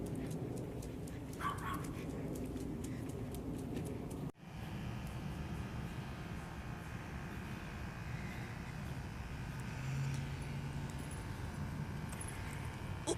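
A dog out on a walk before Hurricane Irma gives a few faint yips and whimpers amid steady outdoor background noise.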